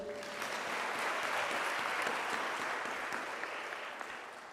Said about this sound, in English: Can we now clap for the DVCA for that session?